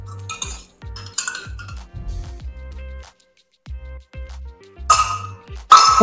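A metal spoon stirs veggie burger batter in a bowl after a little oil is added, giving sharp clinks and ringing taps in short irregular bursts. A louder scraping rattle comes near the end, with no talking.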